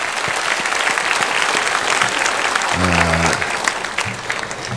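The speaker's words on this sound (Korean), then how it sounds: "우리 대만 캠프팀 다시 한번 감사의 박수 드립니다" A church congregation at a Friday worship service applauds in thanks, steady crowded clapping throughout, with a voice speaking briefly over it midway and again near the end.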